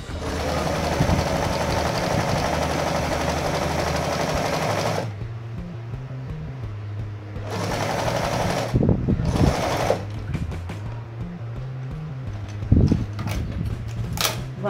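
Sewing machine stitching a backstitch on a dish-towel holder, loud and steady for about five seconds, then quieter machine hum with short bursts of stitching and light clicks.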